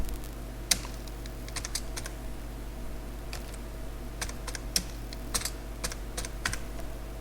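Typing on a computer keyboard during a Lazarus programming session, scattered quick key clicks in uneven bursts over a steady low hum, close and moderately quiet, with no talk.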